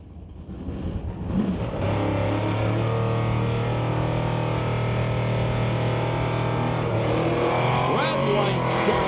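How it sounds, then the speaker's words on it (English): Drag race cars, including a 1969 Ford Falcon, build from idle to a loud, sustained engine roar at the launch, droning steadily with a commentator talking over it. "He'll face off against John McLean for the Falcon Off Racing 1969 Ford Falcon"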